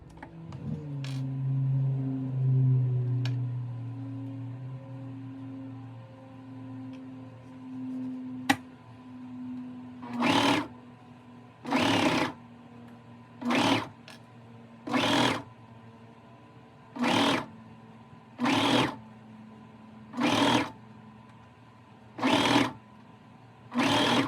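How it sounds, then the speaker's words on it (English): A serger overlock machine sews mesh fabric for a skirted dress. It starts with a humming run, then stitches in a string of short, evenly spaced bursts, each lasting about a second. "So I'm just gonna go in here and serge it all on."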